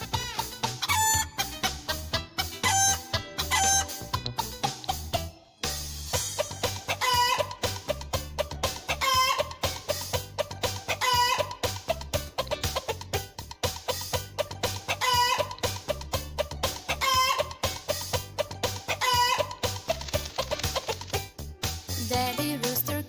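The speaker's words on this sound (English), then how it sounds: "very happy, very proud, clucked away to the crowd" Hen clucking and a rooster crowing, rendered as a steady clucking and crowing pattern set within a continuous song-like musical backing that runs the whole length, loud and busy, with a brief dropout midway.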